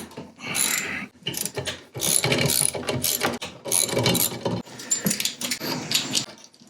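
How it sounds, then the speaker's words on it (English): A ratchet wrench loosening 7/16 bolts on an Electrolux washer's counterweight clicks loudly up close in quick bursts, pausing briefly between strokes. "So there's 4 7/16 bolts that we need to take off. Loosen those up."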